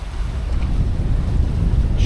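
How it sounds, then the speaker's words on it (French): Wind at 20 knots buffets a microphone on a sailing boat at sea off the Dodecanese, a loud, continuous low rumble of gusts with faint water wash. "le vent souffle à 20 nœuds là"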